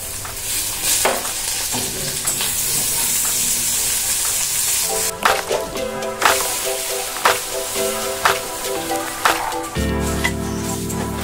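Ginger paste frying in a pan for a Bengali home-cooked meal, a steady sizzle with a run of sharp spoon-against-pan scrapes and clinks from stirring, growing louder and more rhythmic toward the end.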